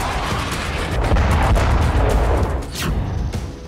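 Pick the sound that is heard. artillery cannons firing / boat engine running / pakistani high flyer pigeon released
artillery cannons firing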